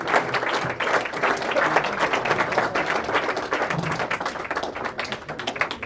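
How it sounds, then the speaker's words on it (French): Audience applause at a Fondation Actions Comores gala dinner, a loud, dense and steady burst of clapping from a crowd, with no pause through its length. "On les applaudit bien fort."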